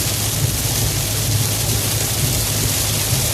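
Dense, constant rush of heavy rain in Sharjah, UAE, fills the air, a broad steady hiss with a low rumbling undertone and no voices.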